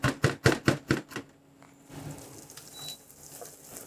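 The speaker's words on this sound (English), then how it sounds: "Just a nice rough chop." A knife roughly chops chillies on a board for ketchup, about seven quick, sharp, evenly spaced strikes up close, followed by quiet kitchen shuffling.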